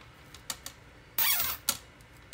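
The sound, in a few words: zip tie being tightened on a wreath wire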